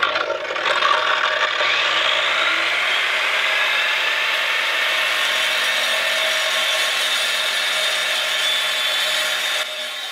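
A quick cut saw running steadily on power from a Ugreen PowerRoam 2200 portable power station, cutting through material with a continuous loud, harsh grinding whine that holds for the whole stretch with no talk.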